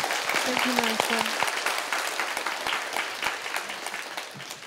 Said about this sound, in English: And your enthusiastic clapping.